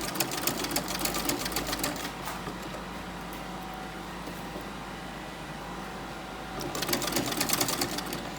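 A sewing machine stitches a flare skirt in short bursts of rapid needle clatter, with a steady low whir between them, heard close and alone.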